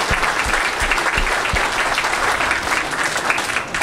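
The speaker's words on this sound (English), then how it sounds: "So if you can give them a round of applause right now." Steady applause from an audience at a pinball and arcade show fills the space, dense and continuous, with a few low thumps near the start before it evens out.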